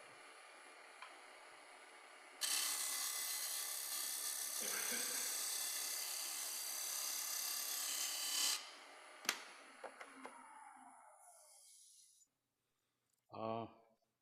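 Wood turning on a lathe at 2,000 RPM with a flat carbide blade making a flat cut, a steady loud rasping scrape that runs for several seconds, then stops, followed by a few sharp clicks and a brief burst.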